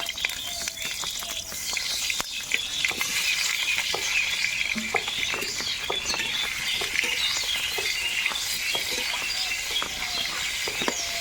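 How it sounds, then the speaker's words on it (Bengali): Pointed gourd pieces fry in hot mustard oil in a kadai, a steady, close sizzle with scattered sharp pops and stirring clicks throughout, no talking. "এবার পটলগুলো ভেজে নেব।"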